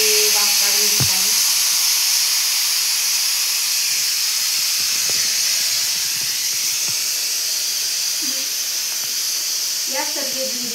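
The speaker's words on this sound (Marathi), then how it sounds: "या प्रकारे वाफ काढून घेत आहे." Steam hisses continuously and loudly from a pressure cooker being released after cooking khichdi, a dense unbroken jet with faint voices under it.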